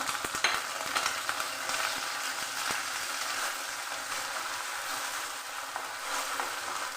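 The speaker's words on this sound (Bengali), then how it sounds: "পেঁয়াজ রসুন লঙ্কা সব লাল করে ভেজে নিচ্ছি" Onion, garlic and chili sizzle steadily in hot oil, with occasional clinks of a spoon stirring the pan.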